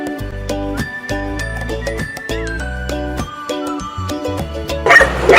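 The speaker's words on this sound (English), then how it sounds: "Dog barking on the wall there." A terrier barks from a wall beside a farm on a winter countryside walk: a run of sharp, fairly close barks in an uneven rhythm, with a gust of wind noise at the end.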